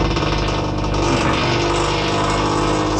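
A hydraulic cylinder on a metal chip crusher, its rod slightly bent, runs with a continuous loud mechanical drone and grinding hum from nearby, steady throughout with faint irregular knocks.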